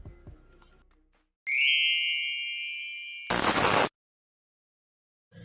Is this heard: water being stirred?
no